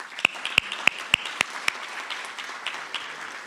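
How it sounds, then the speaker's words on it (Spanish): Applause from an audience at a National Agroecology Day event in 2023: a handful of crisp, distinct claps up front, then a softer, sustained patter of clapping that fades gradually. "por nuestro querido maestro Jorge Duchgari, al que también pido un aplauso"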